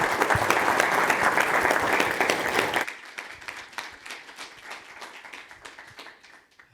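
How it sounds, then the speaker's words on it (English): Long, dense round of applause from an audience at a business conference on integrating mid-market firms into multinationals, loud and sustained for about three seconds, then thinning to scattered, lighter claps that taper off. "I think you got an extra long round of applause"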